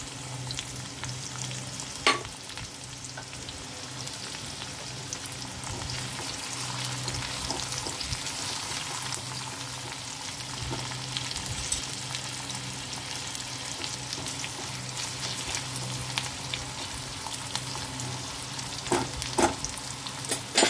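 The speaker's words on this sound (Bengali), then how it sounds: "পেঁয়াজটা একটু ভাজা হয়ে গেলেই লাউগুলো দিয়ে দেবো।" Finely chopped onion frying with cumin seeds in a pan for bottle gourd curry, a steady close sizzle and crackle with occasional stirring scrapes and clicks, no voices.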